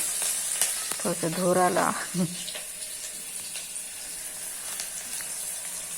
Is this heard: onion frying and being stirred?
yes